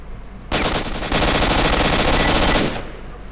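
Automatic gunfire from the S.T.A.L.K.E.R.: Shadow of Chernobyl video game: a loud, close, continuous burst of rapid shots lasting about two seconds, with no talk.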